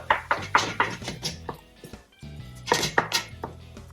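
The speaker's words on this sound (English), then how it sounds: "I'm going to go ahead and break up the turkey and I'm going to cook it all the way through." Ground turkey is broken up in a pan with a spatula, giving a series of close clinks and scrapes in uneven bursts, with a short pause in the middle.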